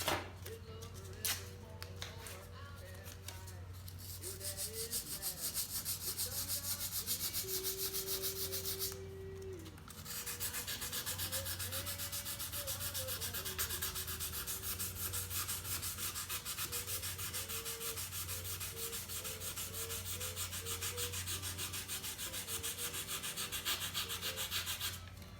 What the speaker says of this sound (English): now I'll go to sanding lightly with some